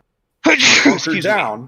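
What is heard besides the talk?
sneeze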